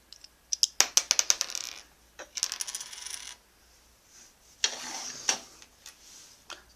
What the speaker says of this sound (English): we take the Bey apart to look at its pieces